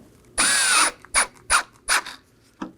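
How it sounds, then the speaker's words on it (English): A power tool drives T15 Torx screws into the grille of a 2018-2024 Chevrolet Equinox, beginning with one longer whir and followed by four short bursts that snug the screws, close and loud. "Now for our 6 T15 Torx screws on the grill."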